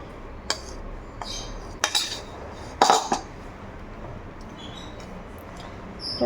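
Egg and flour are mixed into a dark chocolate cake batter, with a utensil clinking against the bowl in a few sharp, separate knocks and scrapes over a quiet background.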